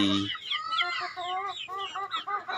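Texas gamefowl chickens cluck close by, with a quick run of rising, chattering clucks following a brief low start, fairly loud and with no talking over them.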